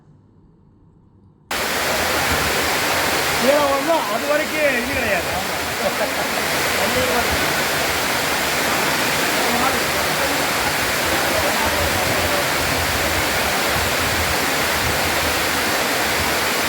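A sudden waterfall of floodwater pours down Yanaimalai hill near Madurai after continuous rain, a loud, steady rushing roar close by that starts abruptly after a quiet moment, with a person talking over it briefly.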